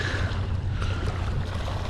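Jet skis run on the water off a UK beach, a steady broad engine roar and water rush filling the background with no pauses and no talk.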